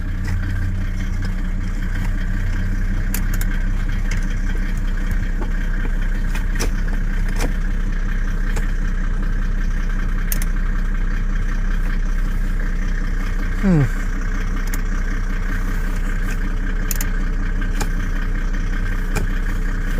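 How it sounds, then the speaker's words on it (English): Steady, loud idle of a Mercedes W210 E300 with the OM606 six-cylinder turbo diesel, an even clattering drone holding throughout with no revving. "OM606 6-cylinder turbo diesel. Very reliable engines when maintained, but being an old school diesel, it's loud."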